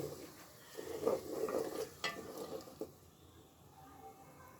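Ginger, garlic and onion sauté in a pan for a chicken and potato curry, with soft sizzling, a few scrapes of a stirring spoon and light clinks against the pan, heard up close, quiet and without talk.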